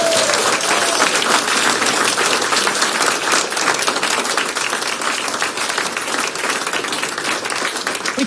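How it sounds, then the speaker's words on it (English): Loud, dense applause fills a hall as an audience claps for the Prime Minister at the launch of a public conversation on care, continuous and even throughout with no voices breaking through. "Don't clap me yet"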